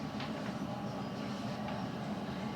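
A London Underground Hammersmith & City line train running toward Barking between Liverpool Street and Aldgate East, giving a steady, loud interior rumble with continuous wheel and motor noise throughout.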